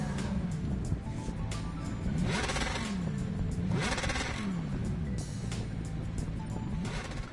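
Engine whine from a GT Omega Prime race car in GT Sport, a steady loud drone with rising and falling pitch sweeps as the car shifts and revs, continuous throughout with no talk.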